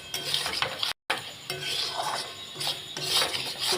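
A spoon scrapes and stirs ground spice paste (bata masala) in oil in a pan for chicken kosha, a steady rasping, clinking rhythm close up with a brief gap of silence.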